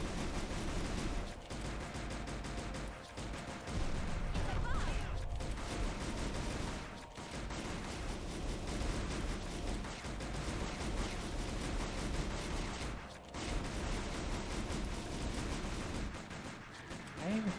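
Continuous rattling gunfire from the Silent Hill Arcade game blasts away at swarming bugs, a dense, loud stream of shots and impacts with brief dips, under game sound effects.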